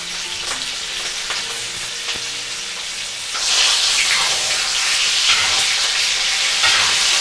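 Butter and halved garlic hitting a hot pan with steak, a steady sizzle that swells into louder, brighter frying partway through, close up, with no talk.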